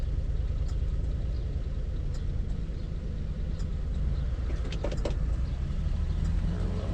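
An old car with a three-on-the-tree column shift idles cold on a hot day, a steady low engine rumble that stays close and even for several seconds, with a few faint clicks near the end.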